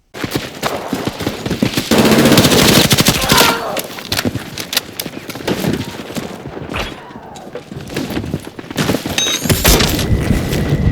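PW5A3 weapon gunfire in Battlefield 6, with loud rapid bursts of automatic fire crackling almost continuously, punctuated by heavier booming impacts and a dense battle din.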